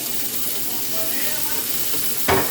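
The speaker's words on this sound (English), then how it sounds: "So it says to brown the stew meat and the vegetables together." Stew meat browns together with onion and pepper in a pan for carne guisada, producing a loud, steady sizzle and hiss with a short burst of stirring near the end.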